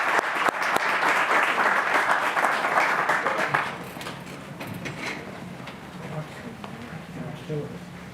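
Applause at a county council meeting, a burst of many people clapping that lasts a few seconds, then gives way to quieter room sounds with people talking.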